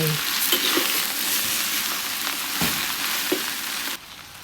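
Mama instant noodles stir-fried in a pan with vegetables and sausage, a loud, steady sizzle with occasional scraping stirs, continuous until it drops off abruptly near the end.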